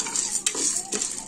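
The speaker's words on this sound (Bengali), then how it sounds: "এবার আমি পপকর্নটা একটু তেলের মধ্যে নেড়ে নিচ্ছি।" Popcorn kernels stirred in hot oil, a brief close scrape of a spoon through the kernels over a steady sizzle, with two sharper strokes.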